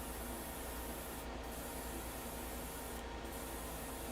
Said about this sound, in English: Little spritz in there.